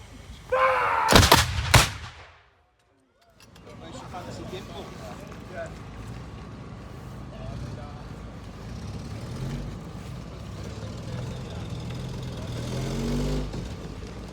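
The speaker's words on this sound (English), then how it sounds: "Two-gun ready. 3 gun ready. Listen up. Stand by! Fire!" Guns fired in a salvo at the Foxfield railway War Wheels event, a sharp loud blast and echoing boom early on, then crowd noise and vehicle rumble in the distance.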